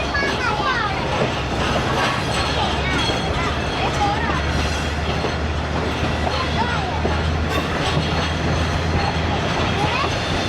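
Fareed Express passenger train rolls steadily along a branch line through countryside, with a continuous loud rumble and rhythmic wheel clatter from inside the coach, and a voice talking underneath.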